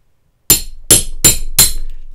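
A copper rivet being hammered to set it in leather: four sharp metallic strikes, loud and close, each ringing briefly before the next blow lands.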